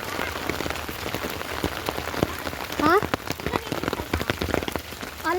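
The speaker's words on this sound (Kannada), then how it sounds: "ಮಳೆ ಬೀಳ್ತಾನೆ ಐತೆ." Heavy rain pours steadily on a flooded road, a dense close patter of drops with sharper splashes, while a person talks over it and a brief squeak cuts through midway.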